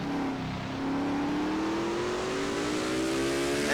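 A race car engine screams loudly and steadily, pitch climbing as it pulls back up through the throttle after downshifting, on the Yas Marina circuit during a Hersheys Cup Series race.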